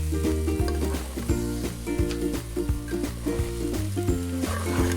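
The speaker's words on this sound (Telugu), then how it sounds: "ఉల్లిపాయలు బాగా వేగేదాకా వేపుతూ ఉండాలి." Sliced onions and rice fry in a pan with cashew paste for spicy chicken biryani, a soft continuous sizzle under prominent rhythmic background music.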